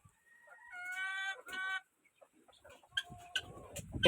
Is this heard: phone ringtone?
no